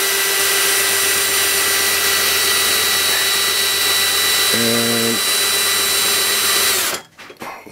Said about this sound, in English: In this instance I'm going to use a power drill